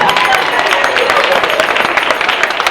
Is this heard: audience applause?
yes